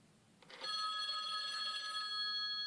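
A rotary-dial phone bell starts ringing after a few clicks, a bright continuous metallic ring that holds steady.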